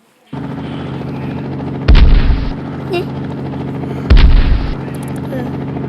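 Heavy gunfire and two loud explosive bursts in the video game Memes Wars over a constant droning background, with a brief spoken word.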